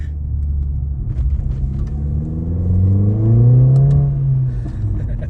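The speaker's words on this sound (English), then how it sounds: "Sporty exhaust, you can't beat it. It's just the pops and crackers as well that make it, isn't it?" Mercedes A45 AMG with a sporty exhaust revving up in a rising, throaty surge that peaks and falls back, loud and close, with no talk over it.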